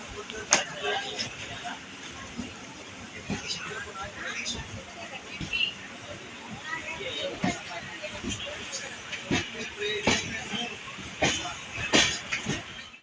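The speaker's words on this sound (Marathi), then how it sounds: "तर इथे ट्रेन थांबली होती. तर बघा, आम्ही आता चाललोय परत पुढे" A passenger train pulling away again after a stop at Sangameshwar station, heard from on board as a steady rumble with irregular rattling clicks and hiss; no one speaks.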